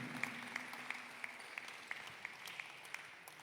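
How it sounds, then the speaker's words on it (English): Sparse, faint clapping from a small crowd at a league memorial tribute, each clap landing on its own in a slow, even rhythm of about three per second. "let us all give Brenton a warm round of applause for his contribution to the league and the community."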